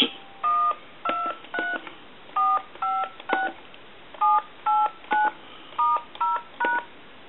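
A rapid series of about fifteen keypad tones from a vintage Wood Duck telephone, each a short clean beep, evenly paced and fairly close.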